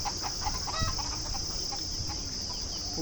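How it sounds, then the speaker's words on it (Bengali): Chickens and young chicks cluck softly in a hot Abu Dhabi yard, steady low clucking with a brief sharper call near the start, moderately close over constant background noise. "ওগুলো মুরগির বাচ্চা সব।"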